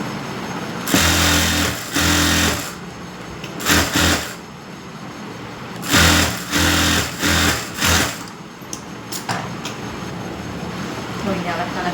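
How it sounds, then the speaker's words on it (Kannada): A sewing machine stitches a blouse in short stop-start bursts of fast, loud whirring, with quiet gaps and a few brief pauses between runs. "ಈಗ 4 ಸ್ಟಿಚಿಂಗ್ ನಾವು ಹಾಕೋಣ"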